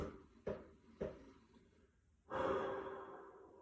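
Two short, sharp exhales come about half a second apart, then a longer, louder breath out during an intermediate-level abdominal core exercise, close and clear with no talking.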